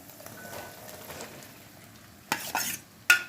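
Okra pieces fry in a pan, a faint, low sizzle that swells into a few louder bursts of crackling and utensil scrapes near the end, with no voices.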